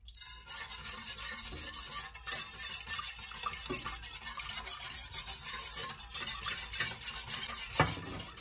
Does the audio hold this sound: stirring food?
yes